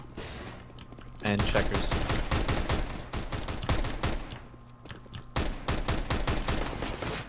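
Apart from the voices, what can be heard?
gunfire in the video game CS:GO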